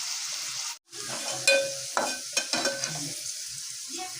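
Sliced onions deep-fry in hot oil for chicken biryani, a steady close sizzle with occasional spoon scrapes and a brief break near the start.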